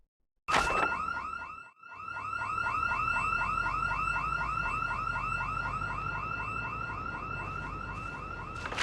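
A car alarm in Project Zomboid blares after a sudden onset, briefly cutting out, then sounding a steady rapidly warbling tone that continues loud and close.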